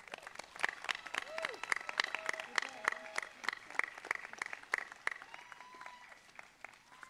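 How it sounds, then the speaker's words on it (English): Steady round of audience applause for graduates at a high school graduation ceremony, dense sharp claps heard from a distance with faint voices and whistles mixed in. "Now please, a quick round of applause for our graduates."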